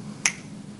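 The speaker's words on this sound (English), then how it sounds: "when I snap my fingers, the spade and the club, they're going to change places" A single sharp finger snap at a magic club meeting, one crisp close click that rises briefly out of a quiet room background and fades quickly.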